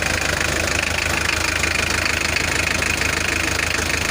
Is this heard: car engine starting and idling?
yes